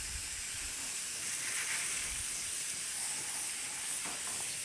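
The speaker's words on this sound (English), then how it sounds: "we're going to go ahead and rinse it down for a few seconds" Water runs steadily through a strainer as pea seeds are rinsed for microgreens, a soft continuous hiss and spray that stays fairly faint and even, with no talking.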